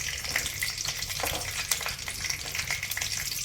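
Raw peanuts frying in oil in a pan make a steady, close sizzle with a few light crackles and stirring scrapes, and asafoetida is added, with no talk.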